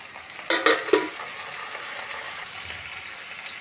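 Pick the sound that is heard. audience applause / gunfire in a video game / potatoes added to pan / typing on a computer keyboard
potatoes added to pan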